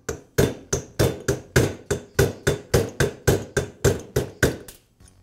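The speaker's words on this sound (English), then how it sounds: "I'll use a small punch to tap the key away from the keyway." Small metal punch tapped with a hammer to drive a flywheel key out of its keyway on an Echo trimmer engine, about fifteen sharp, evenly spaced metallic knocks, close and clear with no talk.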